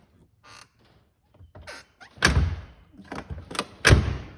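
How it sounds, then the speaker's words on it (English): A C4 Corvette convertible door is swung and shut in a garage during gasket replacement, giving a creak and a few solid thuds, with two louder closing slams near the end, close up and without talk. "So we're just gonna do that and then shut the door."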